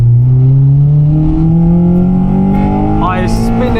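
Honda Civic Type R EP3 with its K20 engine revving hard and bouncing off the rev limiter, a loud, close, steadily rising engine note with stuttering cut-outs near the top, voices talking over it.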